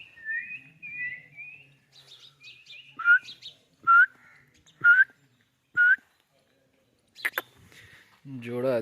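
A pet bird gives a series of bright, rising whistled notes, four clear calls spaced about a second apart after some softer chirping, close by in a quiet room with faint human sounds around it.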